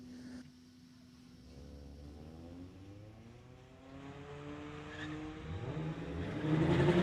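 A 2022 Hyundai and a 2014 Mitsubishi launch in a street-legal drag race, engines revving and rising in pitch as they pull away, moderately distant and growing louder toward the end.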